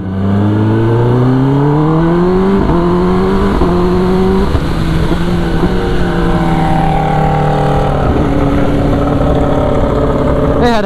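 Yamaha R1 motorcycle fitted with a megaphone exhaust revs loudly and close by, its engine pitch climbing and dropping through several sustained blips.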